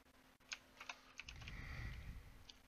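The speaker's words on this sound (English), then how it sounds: "So let me type this up, and then as usual, I'll bring you back so you don't have to watch my horrible typing skills." Quiet typing on a computer keyboard, a scattering of soft key clicks over a low rumbling hum, close and faint.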